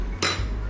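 A utensil stirring soup in a cooking pot in a home kitchen: a single short metallic scrape and clink, close and fairly loud, over a low steady background hum.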